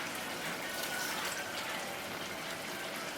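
Water pours into a blender holding garlic, tomato and onion for a chipotle sauce, a soft steady trickling close by that runs throughout.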